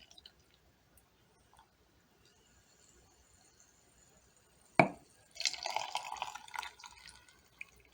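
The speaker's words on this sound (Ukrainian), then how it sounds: "Помідори заливаю кипяченою водою." Boiled water is poured into a one-litre glass jar of tomatoes in a short, bright splash followed by a steady trickling fill that lasts a few seconds, close by and fairly quiet.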